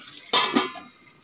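A lid goes back onto a pot of cooking pumpkin with two quick metallic clanks close by, followed by quiet.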